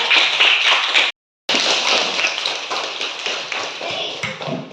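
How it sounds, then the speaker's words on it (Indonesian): In a school setting, a room full of people claps in a dense, brisk burst that cuts off for a moment and then resumes. The clapping keeps going at a steady, fairly close level until the end. "Luar biasa, tepuk tangan."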